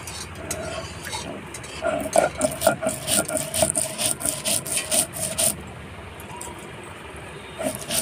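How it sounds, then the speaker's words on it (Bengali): Black mustard, poppy seeds and green and dried chillies ground together into a paste, a rhythmic rasping scrape of stone on stone repeating in quick strokes, close and fairly loud, then easing off. "কালো সর্ষে, পোস্ত আর কাঁচা লঙ্কা, শুকনো লঙ্কা একসঙ্গে বেটে নেব"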